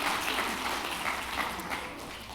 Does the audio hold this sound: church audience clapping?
yes